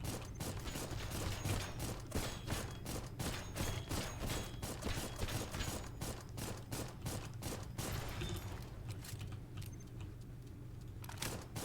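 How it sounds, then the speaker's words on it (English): Gunfire in a video game, including a shotgun, sounds as dense, rapid bursts of shots and clattering mechanical noise over a steady low hum, easing off toward the end. "Oh, it was a shotgun."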